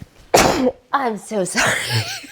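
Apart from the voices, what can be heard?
sneeze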